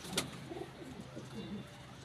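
Pigeons coo softly in a few low, rolling calls, close by and fairly quiet, with a short sharp noise near the start.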